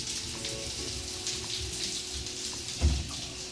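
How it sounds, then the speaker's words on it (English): Shower running in a renovated MGM Grand Las Vegas hotel room, a steady broadband hiss of spraying water with a brief louder splash near the end, close by, with no talking. "Pretty good shower pressure."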